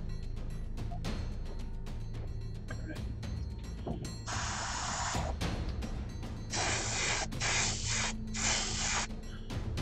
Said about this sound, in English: So I'm just going to load up my airbrush with that and start laying down some color.